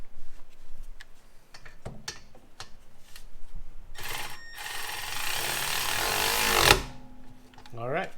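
A wrench tightens the brake caliper bolts on a Kia Forte, giving close metallic clicks and taps, then a long, loud rasping ratchet burst that stops sharply, followed by a few softer clunks.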